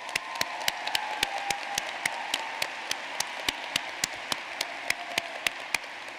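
A commencement audience at a law school ceremony applauds in a hall, sharp distinct claps standing out over a soft, steady wash of clapping across the whole stretch.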